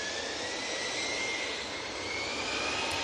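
easyJet airliner at Manchester Airport, strong steady jet engine roar with a thin rising whine sweeping across it, loud and near, holding without interruption and with no voices.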